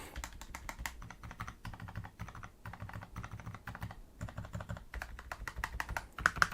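Keys clatter on an MSI Strike 600 silent gaming keyboard, quiet close taps in quick irregular bursts with brief pauses, including slightly louder enter and spacebar presses with a faint rattle.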